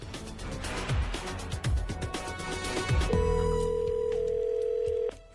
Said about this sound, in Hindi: फोन बज रहा है, मैन.